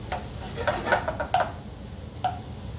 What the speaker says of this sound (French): on fait revenir un petit peu les morilles. On va faire cuire tout doucement